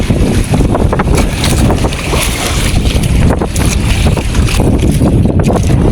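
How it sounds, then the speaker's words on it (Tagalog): Wind roars at sea aboard a small fishing boat, with constant loud buffeting noise, crashing waves and splashing water filling the whole stretch. No one speaks. "Ang lalaki ng alon,"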